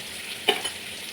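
Onions and green chillies frying in a pan, a soft steady sizzle with a brief stir or scrape near the middle.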